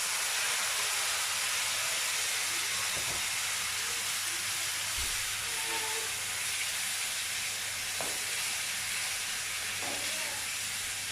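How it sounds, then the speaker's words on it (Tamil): Tomato juice hits a hot pan of softened onions, setting off a loud, broad, continuous sizzling hiss that holds steady throughout, with a few faint clinks of a utensil and no talking. "இப்போ நம்ம வச்சுருக்க தக்காளி சாறை ஊற்றிடலாம்"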